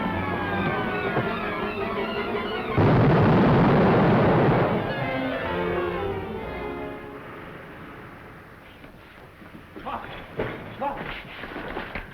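A gas explosion in a 1945 action film erupts as a sudden loud roaring burst lasting a couple of seconds, then fades into rumbling noise with tonal film-score sounds and later clatter.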